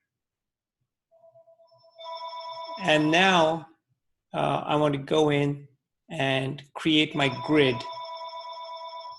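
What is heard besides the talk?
telephone ringing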